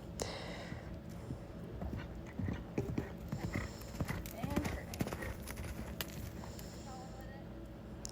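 A young horse cantering in an arena, rhythmic hoof beats on soft footing at moderate distance, with scattered thuds, faint snorts and what may be a dog whimpering in the background.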